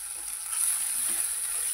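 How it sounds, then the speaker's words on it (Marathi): A steady, close sizzle of spices frying in hot oil, crackling evenly throughout with no voices. "तर आता आपण हे परत एकदा छान परतवून घेणार आहे।"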